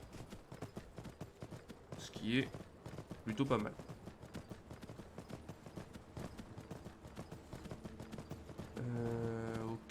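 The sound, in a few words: horse hooves clip-clopping while riding in Skyrim video game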